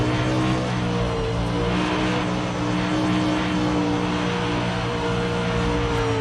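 Engine of a Pro or Super Dirt Late Model race car in the iRacing sim, roaring steadily and loudly at high revs throughout with no speech.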